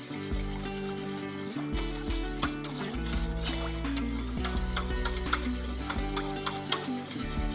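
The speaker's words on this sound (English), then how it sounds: "got to whisk constantly here" A whisk stirs sauce constantly in a pot, giving a steady close scraping and swishing rhythm with faint sizzling underneath and no talk.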